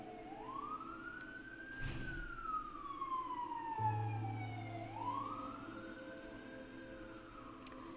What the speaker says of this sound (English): a police car was going by.